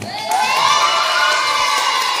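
Primary schoolchildren at a school closing ceremony cheer and clap, an abrupt burst of high-pitched shouting and applause from a lively crowd that holds strong throughout.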